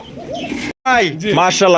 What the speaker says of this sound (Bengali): কালা কুচকুচে একজোড়া বোম্বাই কবুতর পাইতেছেন